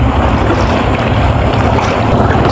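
Strong wind blows at a breezy coastal fishing spot, a loud, steady roar of buffeting air mixed with a constant wash of surf.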